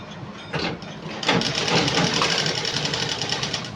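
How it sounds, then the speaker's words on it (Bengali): A sewing machine stitching clothes runs close and loud, starting with a short burst, a brief pause, then a steady continuous rattling hum of rapid needle strokes, with no talk. "এই জামাটা সেলাই করে নেব"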